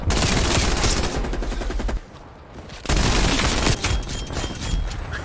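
Light machine gun fire from a first-person shooter rattles in long, loud, sustained bursts, broken by a brief pause before the rapid shots resume.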